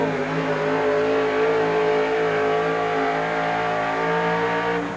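Monster truck engine roaring at full throttle during a truck pull in Tucson, Arizona, 1987: Raging Cajun, Dave Martin's truck, bouncing down the track. The loud, sustained, steady drone holds near and constant.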